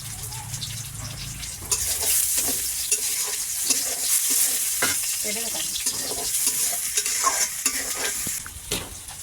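Fish sizzles in hot oil in a clay oven while being stirred, a steady frying hiss broken by regular scraping stirs, with faint voices in the background.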